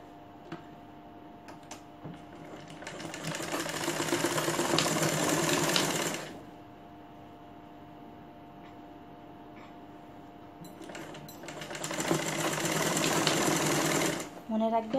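A sewing machine stitches a gown shoulder seam in two bursts of rapid whirring, near and fairly loud, separated by a quieter stretch with light ticking and a voice talking.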